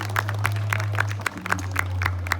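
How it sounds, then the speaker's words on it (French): Scattered applause from the audience at a traditional dance gathering after a presentation of headdresses, with uneven, fairly sparse clapping over a steady low hum and no talking. "vous pouvez les applaudir encore"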